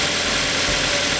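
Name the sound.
2011 Toyota Avanza engine idling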